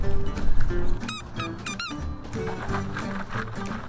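Dog boots on a running Labrador, a quick burst of sharp rubbery squeaks in a short cluster, loud and close over a noisy background.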